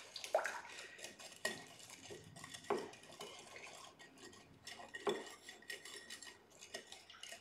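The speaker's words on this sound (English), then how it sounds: "And we stir." A spoon clinks and scrapes against a bowl as Japanese cane sugar is stirred into a miso marinade, a few distinct knocks standing out over quiet, close-up swirling.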